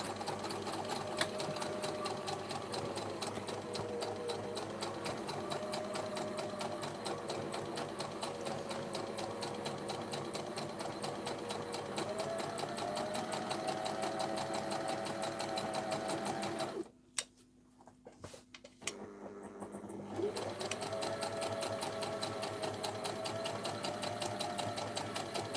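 Sewing machine stitching two canvas fabrics together for a vintage purse, a steady rapid mechanical whir that pauses briefly partway through, then resumes at the same even pace.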